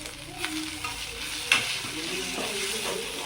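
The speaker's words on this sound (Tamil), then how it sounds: "கொஞ்சமாக கருவேப்பிலை ஒரே ஒரு இனுக்கு சேர்த்துக்கலாம்." Curry leaves, a single sprig, sizzle and crackle in hot oil while a veg empty salna is cooked, a steady close frying hiss with a sharp spitting burst partway through.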